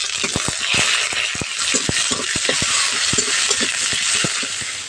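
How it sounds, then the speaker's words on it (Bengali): Two medium-sized chopped onions frying in a pan over dried red chilli and tempered spices, with a steady soft sizzle under repeated clinks and scrapes of a spatula stirring them. "পেঁয়াজটা একটু হালকা করে ভেজে নিতে হবে।"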